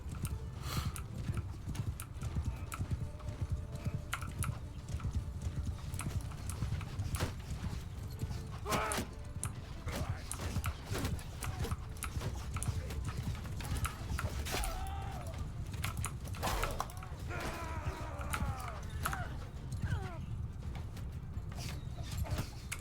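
Cavalry horses galloping in a video game battle, hooves clip-clopping in a rapid continuous patter with occasional whinnies, fairly quiet, mostly alone with faint scattered effects.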